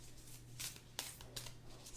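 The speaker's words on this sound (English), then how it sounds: "I'm shuffling with my eyes closed" Soft riffling and tapping of cards being shuffled, several quick bursts close by in a quiet room.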